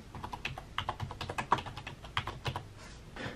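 Steady, close typing on a non-Apple keyboard connected to an iPad Pro, with input switched to Arabic: a continuous run of light plastic key clicks at a brisk, irregular pace, with no one talking.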